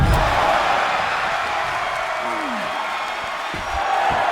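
A WWE 2K24 wrestling arena crowd roars in a steady, dense wash of cheering that holds loud throughout, with a commentator-style voice faintly underneath.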